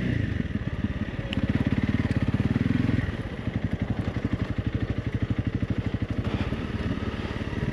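A Honda CRF 300 Rally motorcycle ridden off-road on rough terrain near the Valongo sanatorium, its single-cylinder engine revving and then chugging in a steady pulsing rhythm, loud and close, with no talking.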